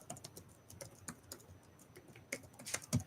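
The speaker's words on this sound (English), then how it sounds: "I'm typing in here." Keys on a computer keyboard clatter in short irregular bursts, close and moderately loud, with a few sharper taps near the end and no talk.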